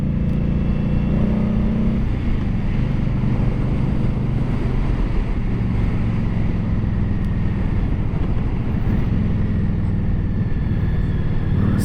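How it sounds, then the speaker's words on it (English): Motorcycle riding through a Connecticut state forest: a loud, continuous engine drone and road rumble with buffeting wind noise, steady throughout and with no talk. "The joys of riding a motorcycle."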